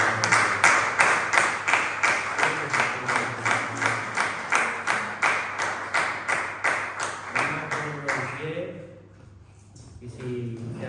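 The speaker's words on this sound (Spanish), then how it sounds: "Dale un fuerte aplauso a Cristo Jesús." Loud rhythmic clapping from a congregation at a church service, steady beats for about eight seconds before fading into a murmur of voices.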